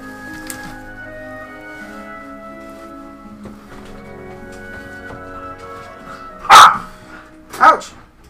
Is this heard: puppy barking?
yes